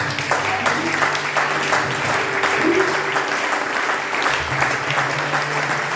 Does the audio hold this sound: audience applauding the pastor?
yes